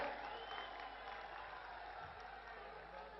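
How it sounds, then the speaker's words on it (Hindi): A crowd applauding at a political rally in Jaipur, a dense continuous wash of clapping heard from some distance, steady and sustained without a break. "दोनों हाथ ऊपर करके तालियां बजाकर देश के नेता का स्वागत करें।"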